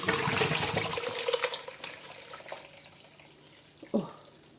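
Whey pours off curdled homemade cheese in a steady liquid stream that thins and fades, ending with a brief splash near the end.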